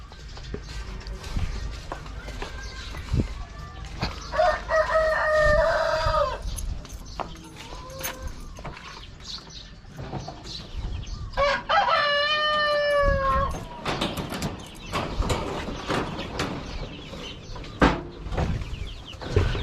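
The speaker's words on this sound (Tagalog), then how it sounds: "magpakain na tayo mga kanoypi ng mga manok" Chickens cluck steadily nearby while a rooster crows loudly twice, with scattered rustling and clucks between the crows, at feeding time.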